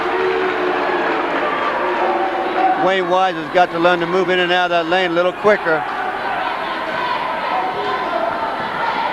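Crowd noise fills a high school gym during a 1988 boys basketball game between Norristown and Truman, a steady roar running under a commentator's play-by-play throughout.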